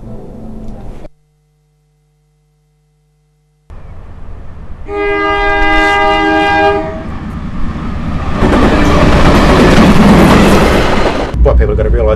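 A train sounds its horn as it runs through a level crossing: after a silent gap, a loud sustained harmonic horn blast comes first, then a roaring rush of wheels and carriages passing close by.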